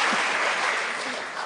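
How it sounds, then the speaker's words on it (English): Audience applause at a Federalist Society lawyers' event on Shakespeare and judging, a dense, steady wash of many hands clapping that stays loud throughout and eases slightly toward the end. "See, you've already gotten applause."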